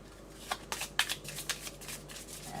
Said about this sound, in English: take them out and shuffle them.